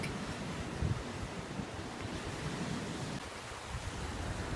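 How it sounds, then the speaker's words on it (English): Ocean surf washes over rocks and sand on the shore at Newport, Rhode Island, a steady broadband rush with gentle surges, blended with wind noise on the microphone. "Watching the rocks and the sand take the waves over and over again"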